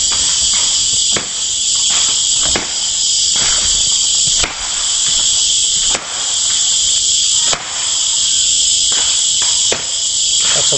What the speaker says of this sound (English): That's a woman hacking away in the middle of a forest, and you hear all the crickets